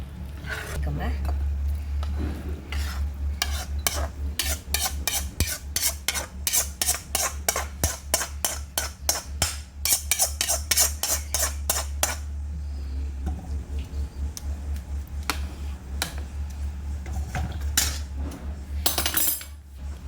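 A spoon scrapes and clinks rhythmically against a metal pan as jackfruit kesari bath is scooped into a bowl, with a rapid run of sharp taps and then sparser knocks toward the end.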